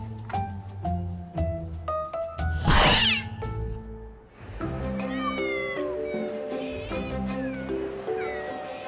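Several cats in a home shared with many cats meow repeatedly, overlapping loud cries with rising and falling pitch, one sharp squeal standing out, close to the microphone.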